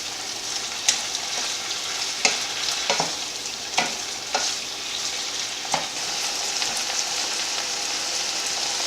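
A garlic mixture is stirred in a frying pan with a steady hiss of frying and a run of distinct spoon scrapes and taps against the pan at an irregular rhythm.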